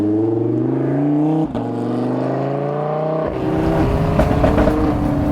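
Lamborghini Huracan engine while driving, loud and close, with sustained rising revs, a brief dip at each gear change and a rougher, noisier roar in the last seconds.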